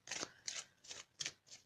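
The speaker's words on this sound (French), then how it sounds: "On va tirer maintenant une carte des maîtres ascensionnés." A card drawn from an ascended masters oracle deck: five quick papery riffling bursts in an even rhythm, close and crisp with no talk.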